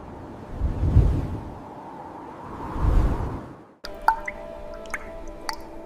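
Meltwater from ice warming under a climbing sun gives two slow swelling whooshes, then a run of crisp separate drips and small splashes, close and clear, with no voices.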